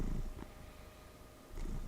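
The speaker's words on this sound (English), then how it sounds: "if you can hear him purring, he's very happy." A pet cat purring close by, a low steady rumble that swells at the start and again near the end, with no talk over it.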